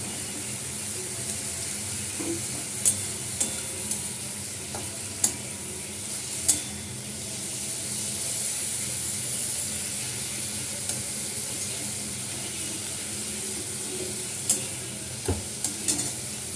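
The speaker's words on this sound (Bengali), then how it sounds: "আমার পেঁয়াজটা অনেকটা ভাজা হয়ে গেছে" Onions fry in a pan, a steady soft sizzle with occasional clinks and scrapes of stirring.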